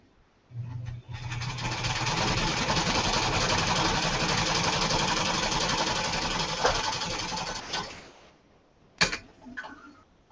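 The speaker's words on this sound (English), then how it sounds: "Fold over and sew." Sewing machine stitching quilt blocks, starting abruptly and running at a fast, steady mechanical rattle for about seven seconds, then stopping, followed by a couple of handling clicks.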